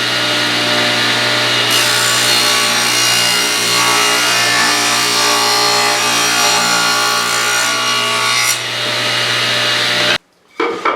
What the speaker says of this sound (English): All right, let's get to cranking here and cut this piece up.